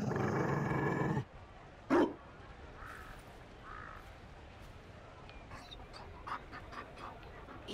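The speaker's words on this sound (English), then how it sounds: "You found a dog? They don't breed Mabari in Olay." A Mabari war dog in the video game Dragon Age: Inquisition gives a low growl and short panting huffs, quiet and close, after a burst of game background sound at the start.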